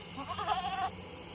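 A goat on a hot farm, tethered under a mango tree, lets out one clear, wavering bleat close by, alone over a low background hum.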